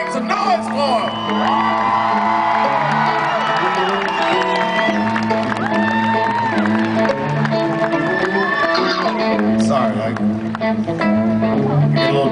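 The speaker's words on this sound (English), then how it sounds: "You gotta clap for them. Make some noise for them." A state fair concert crowd for a band cheers, whoops and claps loudly and continuously, a dense wall of shouting voices with scattered applause throughout.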